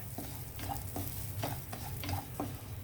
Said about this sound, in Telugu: ఇదే నెయ్యిలో మనము ఈ ఏమంటారు బన్సీ రవ్వ బన్సీ రవ్వ వేసి కొంచెం వేయించాలన్నమాట